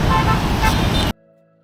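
Busy daytime street traffic in Ho Chi Minh City, with dense engine noise and car horns tooting close by for about a second before the sound abruptly drops to near silence.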